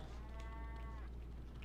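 A single drawn-out cow moo from the video game Scrap Mechanic's survival mode, a tonal bellow lasting about a second over a steady low hum, heard alone.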